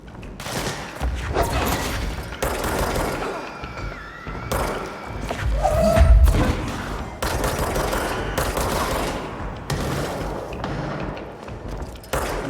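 Rapid bursts of pistol fire in the video game Control, shots cracking in quick succession with dense combat noise and impacts over several seconds, loud and close.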